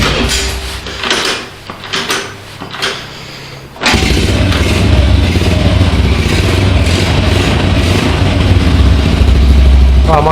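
A Dafra Zig 50 motorcycle fitted with a Honda Biz engine gets a few short starter attempts and clunks, then fires and settles into a steady, close idle.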